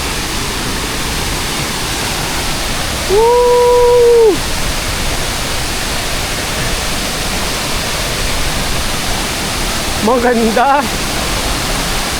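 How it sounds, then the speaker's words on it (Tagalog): A loud, constant rush of heavily falling water from a strong waterfall on Mt. Romelo fills the clip, with a person briefly exclaiming over it twice. "Ang lakas ng agos ng tubig!"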